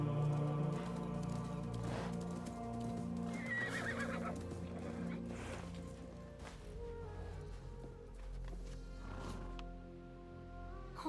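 A horse neighs and whinnies in the Assassin's Creed Mirage video game, with a clear high neigh early on and hoofbeats, set over a continuous layered music and ambience bed at moderate loudness.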